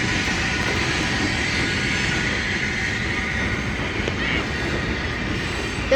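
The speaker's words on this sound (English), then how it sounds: "This might be a long train." A long freight train rolls steadily through a rail yard, its wheels and wagons making a continuous, fairly loud rumble with a faint metallic edge, with no talking.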